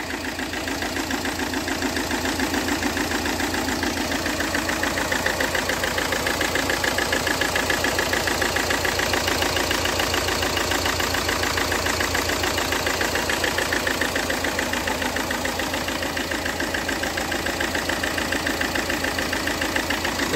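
A Peugeot 406 HDi diesel engine with an irregular idle runs steadily close by, its pulsing, knocking clatter continuous and alone, with no voices.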